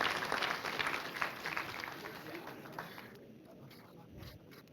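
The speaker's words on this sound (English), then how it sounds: "Let's give him a round of applause, please, as he comes up." An audience applauds for a student walking up during a talk in Kenya, a broad, fairly faint patter of clapping that gradually thins out.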